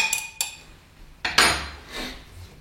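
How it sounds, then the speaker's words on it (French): A spoon stirring coffee in a French press gives a few clinking scrapes and knocks against the glass, close and moderately loud, with a brief swishing stir in between. "on touille à peu près une dizaine de fois"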